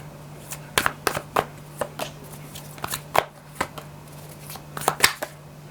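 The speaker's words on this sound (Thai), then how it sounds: "ขอเปิดไพ่เพิ่มอีกหน่อยค่ะ" Tarot cards shuffled and laid out by hand, a string of crisp riffling flicks and slaps at an irregular pace, close and fairly quiet, with no talk over them and a steady low hum underneath.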